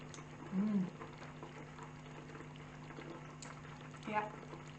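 Pizza sauce cooks down in a pot with a soft, steady bubbling simmer close by, faint and continuous, with a couple of slightly louder pops and a brief tonal whistle from the kitchen.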